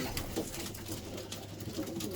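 Low, soft pigeon coos repeat against a steady outdoor background hum, with no one speaking.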